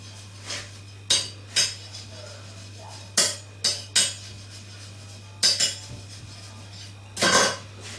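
A knife chops rehydrated dried mushrooms on a board in a pizza kitchen: about eight sharp, separate taps at irregular intervals, some in quick pairs, over a low steady hum.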